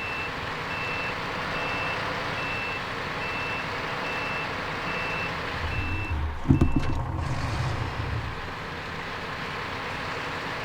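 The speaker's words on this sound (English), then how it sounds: "Don't think the truck wants to make the corner." A truck in the SnowRunner video game sounds a steady series of reversing beeps over a continuous engine drone, followed by a short burst of louder mechanical clunks and rumbling.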